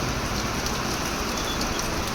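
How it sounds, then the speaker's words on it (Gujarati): Steady rain pours down on a road during a monsoon shower in Gujarat, a dense, even hiss of drops that stays loud and constant with no voices over it. "અમારા વિસ્તારમાં આ રીતનો વરસાદ છે મિત્રો."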